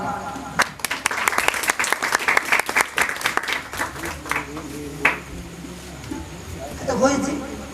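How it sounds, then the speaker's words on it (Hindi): Applause at a live village comedy show, a rhythmic, uneven burst of clapping from a small audience that thins into scattered claps, with voices talking over and after it. "जोरदार ताली"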